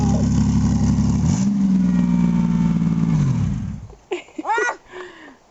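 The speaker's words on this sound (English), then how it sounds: "Cody couldn't help but crank the car up again" A car engine is cranked and revs loudly for about four seconds, the pitch rising and holding before dropping away, after which a person's voice takes over.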